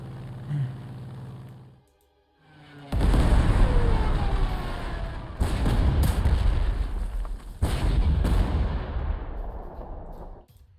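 Artillery bombardment in the World War II strategy game Panzer Corps 2, a sustained, loud roll of overlapping blasts and booms lasting several seconds after a quiet lead-in, with sharper impacts breaking through the rumble.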